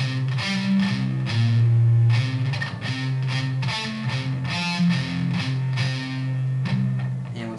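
Electric guitar playing a riff with a distorted tone, steady picked notes over sustained low chords, loud and continuous with no talking.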